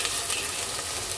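Potato and drumstick vegetable pieces fry in hot oil in a pan, giving a dense, steady sizzle that stays loud and close throughout the short moment, with no voices.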